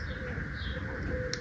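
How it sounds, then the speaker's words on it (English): Pigeons or doves coo softly in a warm French countryside setting, low murmuring calls running continuously under faint background hiss, with a brief higher chirp near the end. "Birds are having a good time."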